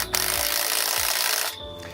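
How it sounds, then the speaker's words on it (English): Cordless drill driving a 7/16 socket to tighten purlin bolts on a caterpillar tunnel: a loud, steady high-pitched whir for about a second and a half, then it cuts off abruptly. "We have it set up on a drill, which makes the job a lot faster"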